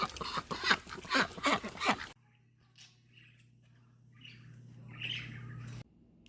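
A burst of busy, overlapping bird chirps and squawks, fairly close, then quieter scattered calls over a low steady hum.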